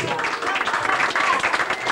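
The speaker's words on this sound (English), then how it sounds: "Right, let's have a big round of applause and bring up Tracy." A round of applause fills a room at a 70th birthday party in Prestatyn, a dense crackle of many clapping hands sustained throughout, fairly close and lively.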